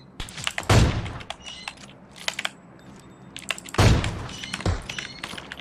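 Two heavy bolt-action rifle shots boom in a sniping video game, each one loud with a rolling tail, followed by scattered sharp clicks and metallic ticks of the bolt being cycled.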